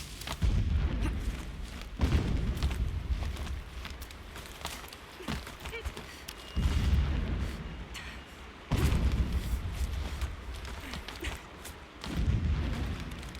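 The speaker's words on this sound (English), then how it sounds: "Explosions in the distance." Deep, muffled booms of video game explosions in Horizon Zero Dawn roll in at intervals from far off, several heavy rumbling, cannon-like blasts separated by quieter stretches.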